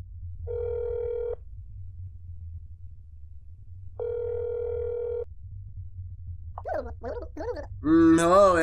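Telephone tone in the video game That's Not My Neighbor: two steady beeps about a second long, separated by a long pause, over low hum, with a voice starting at the end.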